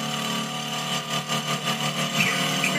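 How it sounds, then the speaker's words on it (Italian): A prototype motorcycle engine, just restarted, runs at a steady idle, a continuous close humming drone with slight rhythmic pulsing and no talking. "Valentino, riaccendi la moto"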